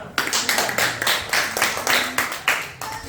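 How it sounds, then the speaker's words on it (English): A small group at a family Thanksgiving gathering in Houston, Texas claps in loose, fairly regular bursts, each sharp onset fading quickly, moderately loud and close, with no voices. "Clap for him."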